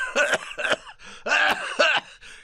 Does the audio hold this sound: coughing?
yes